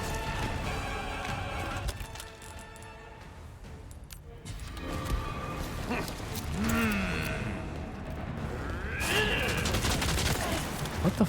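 Rapid bursts of video-game gunfire from an enemy shooting bullets out of his hand, dense crackling shots layered with game sounds and brief voice fragments.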